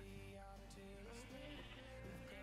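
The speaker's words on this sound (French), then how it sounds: "Oh, les moutons de toutes les couleurs." Sheep in Minecraft bleat in a quick run of wavering cries, close and clear over a low steady background hum, with no voices.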